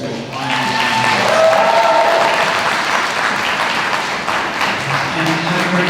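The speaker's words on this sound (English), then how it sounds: "Can I get one last round of applause for" Applause from a convention audience at a Power Morphicon panel, loud, dense clapping that fills the room and holds steady throughout, with a voice briefly audible underneath.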